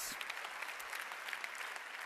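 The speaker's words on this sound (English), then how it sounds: "Give him a big round of applause, please." Audience applause at a Euroscola session, a soft, even patter of many hands clapping, quiet and somewhat distant, continuing steadily throughout.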